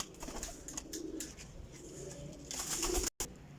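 Teddy pigeons coo softly and intermittently at a moderate distance over faint background noise, with no talking.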